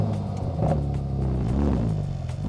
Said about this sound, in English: All these Bentleys have a W12 engine in them.